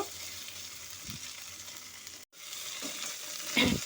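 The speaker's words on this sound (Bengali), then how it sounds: "আর পেঁয়াজটাও এখন গোল্ডেন ব্রাউন হয়ে ভাজা ভাজা হয়ে গেছে" Onions and potatoes frying in a pan give a steady broadband sizzle throughout, with a few soft stirring scrapes and a brief break partway through.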